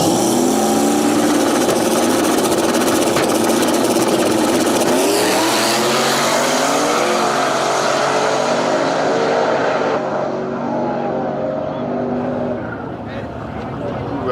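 Drag racing cars accelerating down the strip roar loud and close, engine pitch climbing as they pull away before the noise thins out toward the end.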